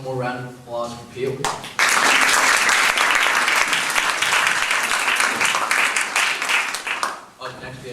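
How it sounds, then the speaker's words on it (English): An audience at a community share night breaks into loud, dense applause after a presentation, sustained for several seconds before tapering off, with a voice speaking just before it starts and again as it fades. "One more round of applause for Peel."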